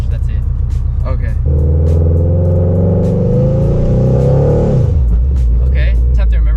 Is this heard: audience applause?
no